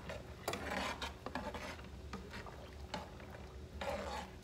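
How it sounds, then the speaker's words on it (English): A spoon scrapes and stirs macaroni noodles in a cooking pot, giving quiet, irregular rasping and rubbing strokes up close. "I'm just gonna give it a quick little stir."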